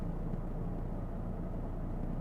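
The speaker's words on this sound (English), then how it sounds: "The whole car's sort of shuddering and moving around, it's making noises." A turbocharged Toyota GR Corolla engine drones in a low, heavy rumble, steady and strained while lugging at low revs in sixth gear at 40 km/h, full throttle, heard from inside the shuddering cabin.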